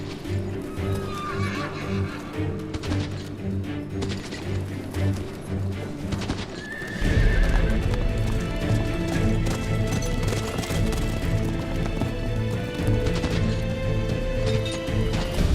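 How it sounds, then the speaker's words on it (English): Horses gallop with pounding hooves and whinny, loud and continuous amid a clatter of crashes, with music underneath and a sudden surge of intensity midway. "He even allows him out riding. So Edward plays a game with his captors, swapping horses to find the fastest."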